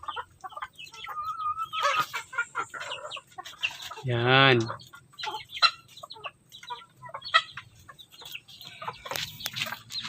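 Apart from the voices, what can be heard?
hen clucking after laying eggs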